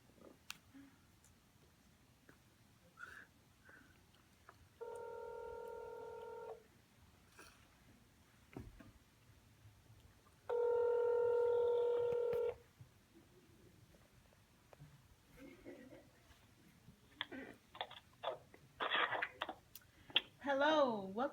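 A telephone call is placed during a radio call-in show, with two steady electronic tone bursts separated by a quiet gap, then faint clicks and rustling before louder sounds at the end.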